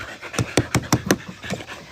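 An old dog pants close by, with a series of quick, raspy breaths in an uneven rhythm and no talk over them.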